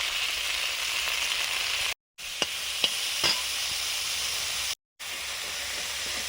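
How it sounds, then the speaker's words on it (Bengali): Spices sauté in a pan with a constant close hiss and sizzle, a few faint taps of the spatula, and two brief dropouts to silence. "মশলা কষানো হয়ে গেছে"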